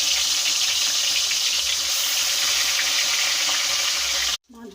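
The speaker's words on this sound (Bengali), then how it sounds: "কড়াইতে তেল গরম হয়ে গেছে, নুন হলুদ মাখিয়ে রাখা পমফ্রেট মাছ দুটো দিয়ে দিই।" Pomfret fish rubbed with salt and turmeric spitting and frying in hot oil in a kadai, a steady loud sizzle filling the clip before cutting off abruptly near the end.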